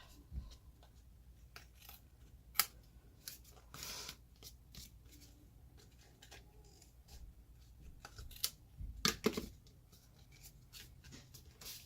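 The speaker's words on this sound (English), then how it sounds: "I'm going to cut away the excess" Scissors cut away excess paper from a stamped card, giving quiet, intermittent snips and paper rustles in a soft, close, irregular rhythm.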